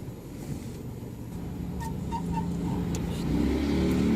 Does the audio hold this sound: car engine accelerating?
yes